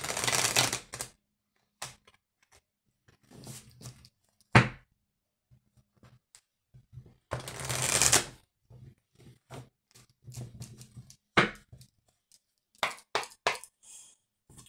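Oracle cards are shuffled by hand in short, crisp riffling bursts separated by pauses, with soft taps and thumps as the deck is squared, close and fairly quiet with no talking.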